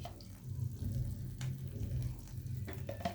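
Ghee sizzling in a pan under a crispy bread veg cheese sandwich, a soft, steady, faint crackle with low hum and a few light clicks, no talking.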